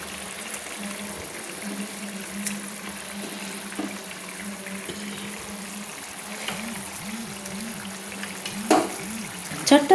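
Fried catla fish steaks go into a boiling gravy with flat bean seeds, giving a soft, low, steady bubbling over a hum, with a few louder clunks and splashes near the end.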